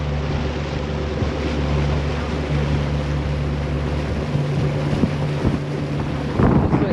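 The twin engines of a 1992 Sea Ray 380 Sun Sport boat run in sync with a steady low droning hum, under wind buffeting on the microphone and some splashy knocks near the end.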